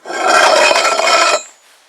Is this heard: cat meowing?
no